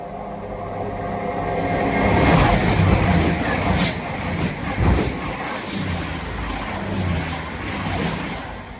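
A train passes close by at Sawmills, Derbyshire, on the main line, a loud sustained rumble and rolling noise that swells and holds for several seconds with brief brake hiss, no talk.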